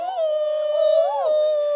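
A singer imitates a dog howling, one long sustained wavering howl that slides up and back down in pitch near the middle, close and clear with no other sound.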